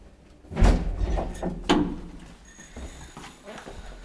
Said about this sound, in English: Door is not good condition.